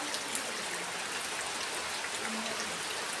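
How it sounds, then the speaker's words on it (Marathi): Heavy rain falls steadily outdoors, a dense continuous hiss with no pauses. "पाऊस पण खूप लागतोय, पाऊस काय थांबायचा नावच घेत नाही"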